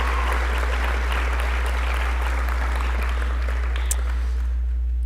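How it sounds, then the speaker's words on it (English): Sustained audience applause fills a hall at a college opening convocation, a steady dense clapping heard throughout over a strong low electrical hum. "How about another round of applause for Dr. Bukowski?"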